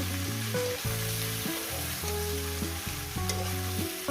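Eggplant and green chilli sizzle and fry steadily in a pan over low gas, a constant close crackle with faint clinks and stirring, no talk.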